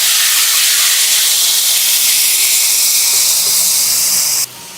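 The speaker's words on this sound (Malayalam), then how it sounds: "ഇനി ഇതിലേക്ക് നമ്മൾ ചേർത്ത് കൊടുക്കുന്നത് തിളച്ച വെള്ളമാണ്" Loud sizzling hiss as boiling water hits roasting vermicelli in a hot pan, the roar steady and strong before dropping sharply at the end.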